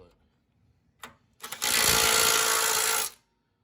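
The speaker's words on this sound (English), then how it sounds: "These, I went to the Milwaukee Impact." A Milwaukee impact wrench tightens box brace bolts on a truck's steering setup, giving one brief blip and then a loud rattling hammer burst of about a second and a half, close by in a quiet space.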